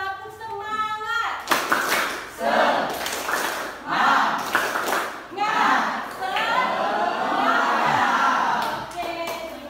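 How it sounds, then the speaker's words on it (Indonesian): A classroom of students performing a rhythmic clapping chant led by a teacher, with bursts of sharp claps in patterned groups mixed with chanting young voices, close and lively. "Untuk lebih semangat lagi, sama-sama tepuk semangat ya"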